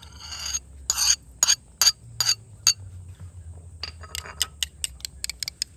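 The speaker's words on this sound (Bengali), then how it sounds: "এবার আমি এই দুটো উপকরণ ভালো করে এইভাবে মিক্সড করে নেব। একটা পাত্রের মধ্যে ঢেলে নেব।" A utensil stirs aloe vera gel with periwinkle flower and leaf paste in a bowl, giving a run of light clinks and scrapes, then a quick series of sharper taps, all close and fairly faint.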